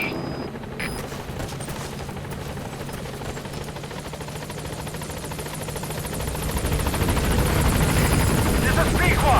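Support helicopter in Metal Gear Solid V arriving at a landing zone, its steady rotor drone swelling louder toward the end, with bursts of gunfire mixed in.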